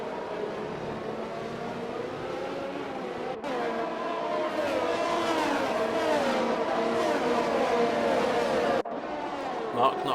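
Racing cars accelerating together at a safety car restart in the F1 2021 game at the Netherlands circuit, a loud continuous engine roar with shifting revs throughout, briefly dropping out twice, with commentary voices over it.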